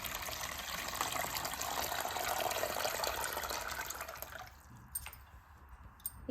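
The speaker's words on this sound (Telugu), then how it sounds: "ఇప్పుడు మన అరటి దవ్వల్ని ఊరబెట్టుకోవడానికి ముందుగా వాటర్ వేసుకుందాం ఒక ప్లాస్టిక్ డబ్బాలో." Water poured steadily into a plastic container for soaking banana stem, a loud continuous gushing fill that stops near the end, leaving a few drips and small knocks, close by.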